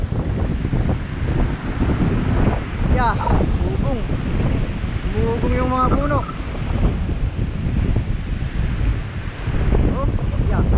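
Strong wind roars across a shore with big whitecapped waves, a dense, continuous rushing wash buffeting the microphone while people talk and call out over it.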